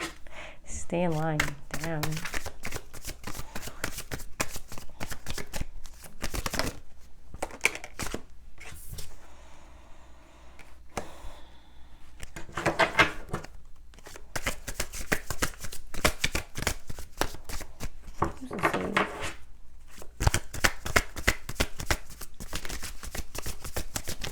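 Playing cards are shuffled again and again in quick crisp bursts, riffling and snapping close up, with voices talking in between.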